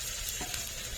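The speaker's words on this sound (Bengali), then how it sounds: "আদা রসুন দিয়ে কিছুক্ষণ নেড়ে নেব।" Ginger-garlic paste stirred and fried in a pan for a stingray fish curry, a steady close sizzle with a brief scrape of the spoon, no talking.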